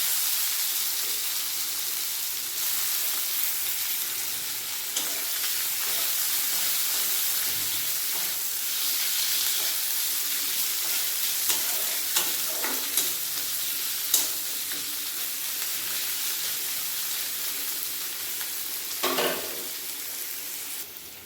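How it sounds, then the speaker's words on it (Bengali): Chopped onion fries in hot oil with black cumin and a dried chilli, a steady close sizzle broken by occasional stirring scrapes and clinks against the pan, with no speech. "পেঁয়াজটা ভাজা হতে থাক"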